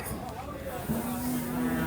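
A bull calf at a busy cattle market gives a low, steady moo in the second half, heard against background crowd noise.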